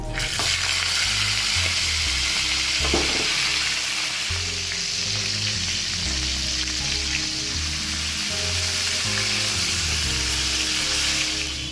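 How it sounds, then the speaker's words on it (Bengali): Katla fish pieces fry in hot oil with a loud, dense, continuous sizzle and crackle, close and steady throughout with no talk. "বাকি মাছগুলো ভেজে নেব"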